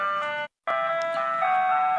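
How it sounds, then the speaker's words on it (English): An ice cream truck plays its tinny, looping electronic jingle at night in Ohio, a steady melodic chime that cuts out briefly and then resumes, loud and close. "this video right here that shows an ice cream truck operating at 11 p.m. in Ohio"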